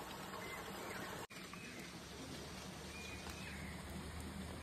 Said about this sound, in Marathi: आता झऱ्याचा आवाज